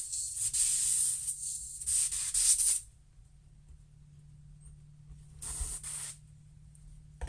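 An airbrush spraying paint onto a fishing lure gives close, hissing bursts: a long spray, a pause, then a shorter burst near the end, with a faint steady hum underneath.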